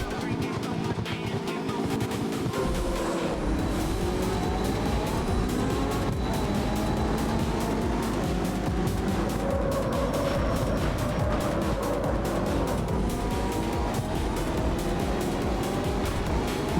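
Racing cars in CarX Street roar and rev close by, engines droning continuously under crowded race noise, loud and steady throughout, with a voice talking over parts of it.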